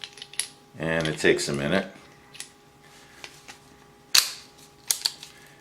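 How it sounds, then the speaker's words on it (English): Revolver rounds clicking into the cylinder of a Chiappa Rhino one at a time, sharp metallic clicks and taps scattered through the clip, with someone speaking near the start. "You have to take the rounds, each one, put them in the cylinder one at a time"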